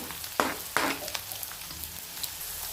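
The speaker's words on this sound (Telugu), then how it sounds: "తర్వాత దానిలోకి సన్నగా కట్ చేసుకున్న ఆ ఉల్లిపాయ ముక్కలు, పచ్చిమిరపకాయ ముక్కలు ఉన్నాయి కదా, అవి కూడా వేసి వేగే వరకు కలుపుతూ ఉండాలి." Sliced onions and green chillies sizzle in hot oil with a steady low crackle, broken by two sharp scraping knocks of a spoon stirring the pan, close and alone without talk.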